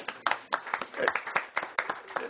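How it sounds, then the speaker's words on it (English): Sparse clapping from a small audience at a city council meeting, distinct individual claps in an uneven rhythm, fairly quiet and close. "Let's give her a big round of applause."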